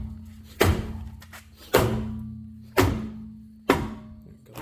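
A rubber dead blow hammer knocks a rusted front brake part loose on a 2015-2019 Hyundai Sonata, four heavy thuds spaced about a second apart, each with a short ringing decay, no voices.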